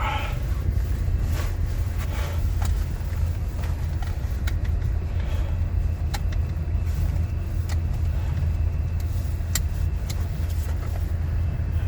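A car driving off on an icy winter road, its engine and tyre noise a steady low rumble throughout with faint higher clicks and knocks, no talk.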